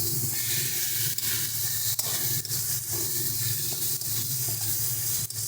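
Tomato hitting a pan of cooked-down spice masala for a rohu-style fish curry, giving a steady close sizzle and hiss with a few soft stirring clicks, no voices.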